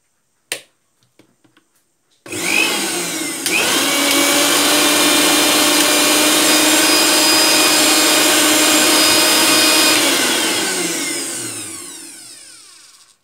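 Serviced mixer grinder switched on after a few small taps, spinning up into a loud, steady motor whine with a shifting pitch, running for about eight seconds before winding down as it is switched off.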